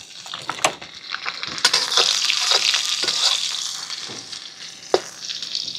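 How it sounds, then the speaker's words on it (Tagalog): Garlic and chillies sauté in a hot pan for razor clams stir-fried with Thai herbs, giving a loud, close, bubbling sizzle with sharp spatula knocks and scrapes throughout. "Magigisa po tayo ng bawang, sili"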